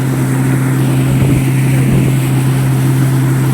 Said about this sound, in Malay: Speedboat.